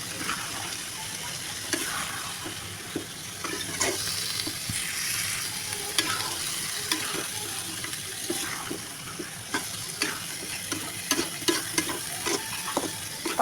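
Cabbage and chicken fry in a pan with a continuous soft sizzle, punctuated by regular light scrapes and taps of stirring, with a faint watery hiss underneath.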